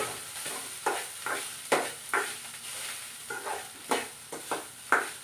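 A spoon stirs dry red chilli rice in a pan, making a series of soft scraping strokes in a loose rhythm over a faint sizzle. The sound is close and gentle, with no voices.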